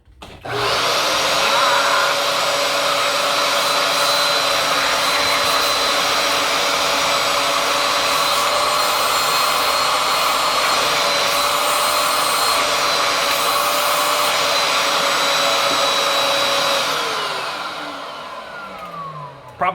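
A Bissell Liftoff vacuum cleaner with a suction problem runs close and loud for about seventeen seconds, a steady whining motor roar that starts abruptly and winds down near the end.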